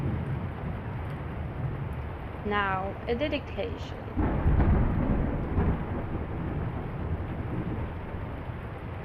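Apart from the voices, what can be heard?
rain and thunder on a cabin in The Lion's Song video game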